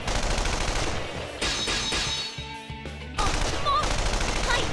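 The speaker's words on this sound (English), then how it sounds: "I am met with barricades and heavy artillery." Heavy artillery and machine-gun fire in the fighting game Persona 4 Arena Ultimax, loud continuous barrages that thin briefly in the middle before a fresh dense volley returns.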